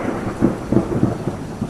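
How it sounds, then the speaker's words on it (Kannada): Heavy rain pours outside with rumbles of thunder, a dense steady hiss punctuated by several low booming swells, loud and close, with no one speaking. "ಹೊರಗಡೆ ತುಂಬ ಜೋರಾಗಿ ಮಳೆ ಬರ್ತಾ ಇದೆ"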